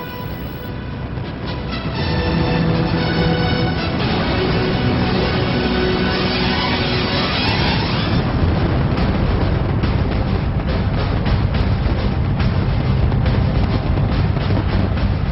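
Continuous rumbling roar of a massive New Year fireworks display in Dubai, with dense crackling bursts, loud and sustained throughout, no voices.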